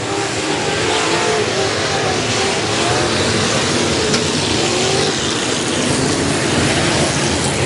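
Modified race cars roar around a dirt oval in a continuous, loud wash of engine noise with no gaps and no speech over it.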